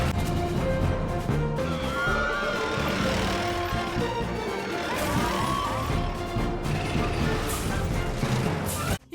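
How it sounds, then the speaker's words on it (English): A giant tank smashes through a wall in an animated cartoon, a dense, loud crashing and grinding of metal and debris with clattering mechanical noise lasting several seconds. "He may have been cut off by the giant tank crashing through the wall"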